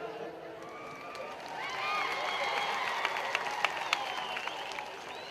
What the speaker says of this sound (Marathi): टाळी वाजवणार का